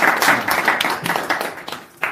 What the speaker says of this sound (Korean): 박수 한 번 더 칠까요?